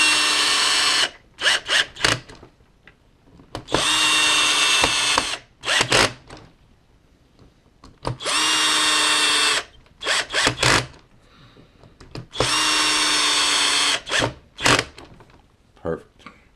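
A power drill drives screws into the frame of a PR1818 CNC router during assembly. It runs in three long, loud whirring bursts, each followed by short clicking trigger pulses, close to the listener and separated by quiet gaps.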